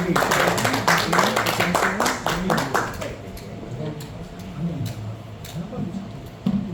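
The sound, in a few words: audience applause welcoming speaker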